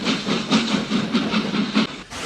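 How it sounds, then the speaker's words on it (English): Rhythmic puffing of a small storybook steam engine pulling away, steady chuffs with hissing steam repeating about twice a second, loud and close, then stopping abruptly near the end. "his driver pulled the lever. "Bye, little Edward," said Gordon as he puffed away"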